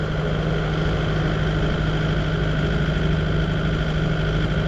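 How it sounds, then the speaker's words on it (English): A Kubota engine idles steadily nearby, a loud, continuous low rumble with an even mechanical drone and no change in pace. "Uncle Phil's Kubota"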